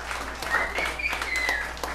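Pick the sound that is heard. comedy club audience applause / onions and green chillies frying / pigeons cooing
comedy club audience applause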